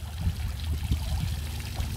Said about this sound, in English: It then trickles over that little drop in the rock there to our lower pond